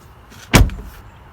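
The door of a 2015 Jeep Wrangler under rebuild swings shut with a single solid, close thump and a short rattle after it, set against faint background hiss.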